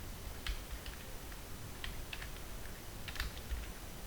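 Typing on a computer keyboard while entering a C printf line, heard as scattered clusters of light clicking keystrokes, close and fairly quiet, with no talking.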